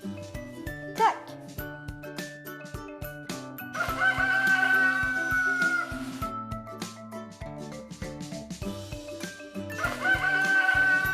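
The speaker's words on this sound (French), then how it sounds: "Un coq." A rooster crows loudly in two or three long calls, set over a steady, music-like backdrop with repeating tonal notes.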